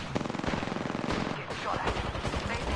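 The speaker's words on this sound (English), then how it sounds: "Getting shot at" Rapid machine-gun bursts fire at the player in a PS4 video game, a dense, continuous rattle of shots heard up close, with faint voices underneath.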